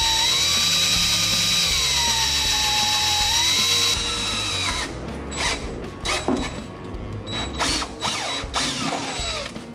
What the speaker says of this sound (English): take a 3/16 drill bit and drill out the other holes